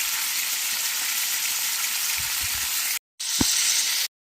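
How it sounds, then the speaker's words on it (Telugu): Tomatoes frying in a pan with salt, a loud continuous sizzle that runs unbroken for about three seconds, cuts out briefly, then resumes with a single soft knock. "టమాటాలు కూడా వేసుకొని వేసి ఫ్రై చేసుకోవాలి."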